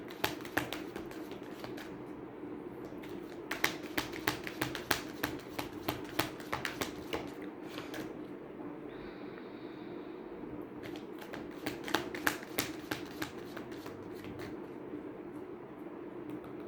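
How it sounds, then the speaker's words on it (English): Tarot cards are shuffled in quick riffling bursts, soft crisp flutters that come in repeated bouts against a quiet indoor hum, with no talk. "please pause the video till the time I'll shuffle the cards."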